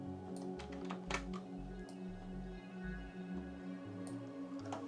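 Computer keyboard keys tapped during photo editing, a run of quick, light clicks and presses near the mic over a steady low background hum, with no talking.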